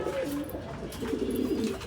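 A pigeon coos softly in low, rolling phrases, close by and alone.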